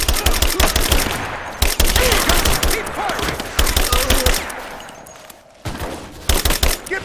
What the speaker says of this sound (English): Give me suppressing fire!